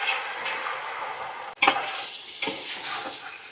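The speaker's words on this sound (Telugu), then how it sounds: "మంచిగా మ్యారినేషన్ చేసి పెట్టుకున్న చికెన్ అండి వేసుకుందాం." Marinated chicken pieces for Dindigul Thalapakatti biryani go into a hot pan and are stirred, a steady close sizzle broken by a sharp clatter and splash as they drop in, then scraping strokes of a spoon against the pot.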